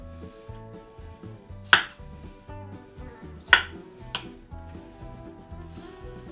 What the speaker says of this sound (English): chop your strawberry into quarters and then throw it in a bowl